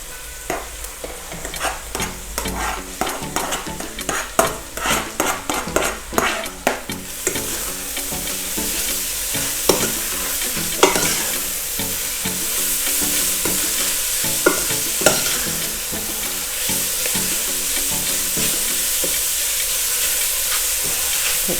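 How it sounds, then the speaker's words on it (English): Onions and carrots fry in a pan for South African chakalaka, with a row of sharp stirring scrapes at first and then a steady close sizzle broken by a few more scrapes. "I'm just going to fry the carrots for a bit before I introduce the spices"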